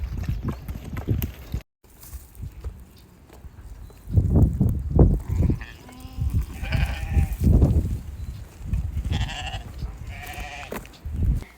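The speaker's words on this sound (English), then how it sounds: "There was some sheep at this spot though, which I actually have a little video of." Sheep at a farm bleat repeatedly, several loud, close calls overlapping in irregular bursts, with some animal shuffling and outdoor background noise.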